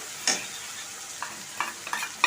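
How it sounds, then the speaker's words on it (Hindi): Spices frying in a pan for jackfruit curry as a spoon stirs them, with a soft sizzle underneath and a few distinct scraping strokes spaced through the moment, close by and without voices. "सारे मसालों को डाल करके इन्हें अच्छी तरह से भुनेंगे लाल करके"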